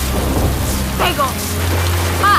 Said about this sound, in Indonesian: Loh, Nur, kok hujan-hujanan?